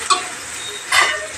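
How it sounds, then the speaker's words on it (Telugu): Hot tempering sizzles and hisses as it is stirred into ridge gourd chutney, two loud bursts of frying hiss over a steady sizzle close by, with no speech. "అందుకు తాలింపు వేసుకొని కలుపుకోవాలి"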